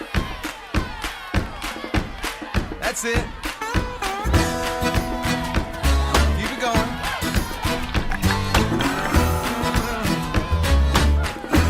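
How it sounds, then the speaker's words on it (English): A worship crowd at a Sunday elementary service claps and stomps in a steady beat, loud and close, while a leader calls out encouragement and music with singing builds underneath. "You guys stomp your feet like that? And let's clap together."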